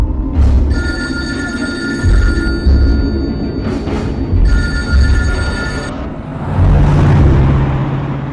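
Telephone ringing in a ghost horror drama, a loud repeated electronic ring in three bursts with short gaps, over a constant low rumble, followed by a softer stretch of hiss.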